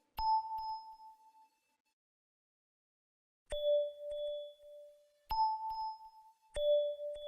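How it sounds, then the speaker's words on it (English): A bell one-shot accent, bell 11 from the CIRCINUS Volume 1 sample pack, rings as clean sustained tones in four struck hits that alternate between two pitches, each sounding alone and decaying smoothly, with silent gaps between them. "That was bell 11 from the bell section of CIRCINUS Volume 1."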